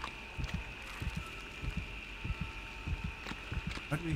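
Heartbeat in the game Dead Space (2008): steady, low, muffled double thumps repeating throughout, over a constant hum.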